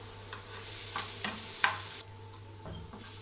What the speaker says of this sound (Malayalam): ഈ പച്ചമണം മാറുന്ന വരെ ഒന്ന് ഇളക്കി കൊടുക്കാം